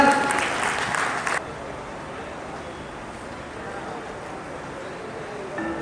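Applause from a conference audience at a Rangrez Foundation of India gathering in Gorakhpur, a dense burst of clapping in the opening second that cuts off abruptly, leaving a low murmur of room noise.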